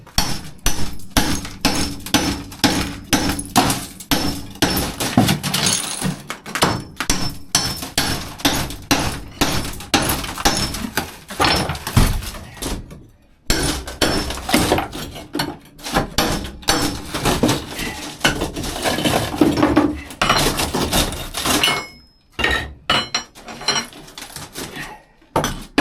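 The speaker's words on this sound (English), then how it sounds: "Just taking a crowbar and my hammer and breaking a little at a time." During a bathroom demolition, a crowbar and hammer chip tile and mortar off a metal surface, producing loud, close, repeated sharp knocks and cracking bursts in an irregular rhythm with short pauses.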